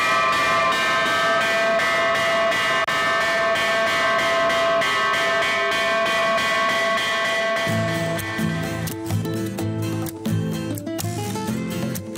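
A church bell rings repeatedly in a steady rhythm, loud and resonant, with the tolling becoming denser and clanging more rapidly toward the end.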